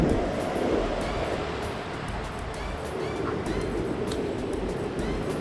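Ocean surf at Kudle beach in Gokarna rolls in as a continuous broad roar, close and fairly loud, with breaking waves swelling and fading under a wash of wind.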